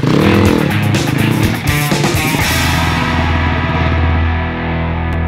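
A motocross dirt bike ridden on sand during a training course, its engine revving hard and loud up close with a throaty, rasping drone that rises and falls as the rider works the throttle.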